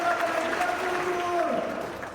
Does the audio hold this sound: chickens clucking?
no